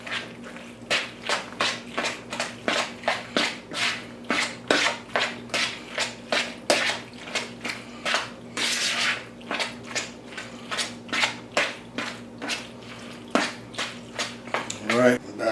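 Macaroni salad being stirred with mayonnaise, a steady rhythm of wet squelching, slapping strokes repeating about once a second, close and clear over a faint hum.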